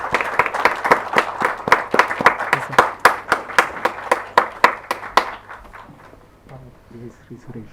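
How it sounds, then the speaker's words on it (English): Audience at a formal event clapping for an honoured chief guest, a small group's sharp, close, rhythmic claps for about five seconds before tapering off into scattered claps with voices underneath. "So let's have a please big round of applause for Padma Bhushan Dr. Architect Hafiz Contra"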